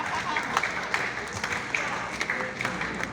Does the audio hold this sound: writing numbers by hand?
no